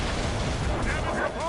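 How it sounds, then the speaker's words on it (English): Cannon fire in a naval battle in Assassin's Creed Rogue rumbles as dense, loud booming, with voices shouting over it. "Cannon! Heavy fire!"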